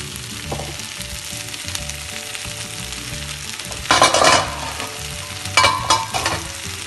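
Spiced aubergine rice (vaangi bhaat) is stirred through hot oil and spice powder in a pan, giving a steady soft sizzle with two louder bursts of scraping and frying partway through.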